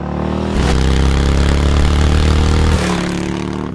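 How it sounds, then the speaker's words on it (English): Big-displacement pushrod motorcycle engine revving hard, loud and close, with a rough, mean note and heavy valve chatter; revs climb sharply and hold before dropping back toward idle. "It's still a pushrod engine, meaning you have crazy valve chatter, and it revs quickly"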